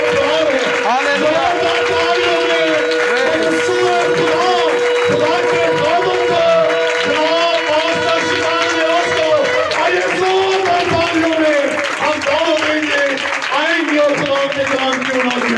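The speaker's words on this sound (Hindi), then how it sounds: "और जोरदार तालियों" A church congregation gives loud, sustained applause during a sermon, dense and close clapping mixed with crowd noise and some cheering that continues steadily throughout.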